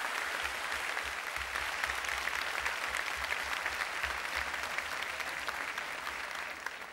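A studio audience on a Turkish talk show claps steadily and evenly for several seconds, a dense sustained applause with no talking.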